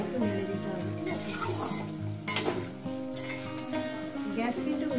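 Bottle gourd posto sizzles in an uncovered pan while being stirred, steady frying hiss broken by a few scraping strokes, with a voice speaking softly over it.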